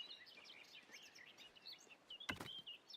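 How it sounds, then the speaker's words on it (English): Soft bird chirps and tweets from the ambient soundscape of the medieval city-building game Foundation twitter faintly over a quiet background, with a brief sharp click or knock near the end. "the bird noises are going to have to stop"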